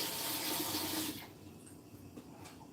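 Running tap water pours over fresh sorrel (hibiscus) being washed, a steady broadband hiss for about a second before the flow cuts to quieter handling rustles and drips.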